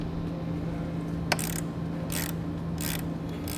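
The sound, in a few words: ratchet tightening a threaded post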